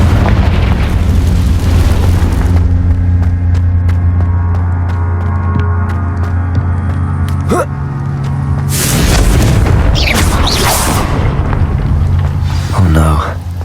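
A Confringo fire spell explodes in Hogwarts Legacy over a loud, constant low rumbling game score. Two heavy booming bursts land midway and near the end, each with a bright crackling rush, and a voice speaks over the din.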